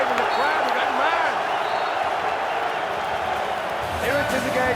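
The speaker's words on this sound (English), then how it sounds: "the crowd are going mad" A handball arena crowd roars loudly and continuously during a European championship game between Serbia and Denmark, a dense wall of cheering and whistling with a commentator talking over it.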